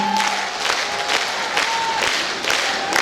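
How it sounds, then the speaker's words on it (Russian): A concert hall audience in Yakutsk claps for an ethno-acrobatic studio at a dance gala, with sustained, even applause and a faint tonal note running beneath the crowd noise. "Аплодисменты этноакробатической студии Кындыкан"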